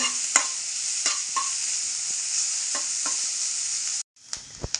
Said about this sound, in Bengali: এবার গাজরটাকে ভালো করে ভেজে নিচ্ছি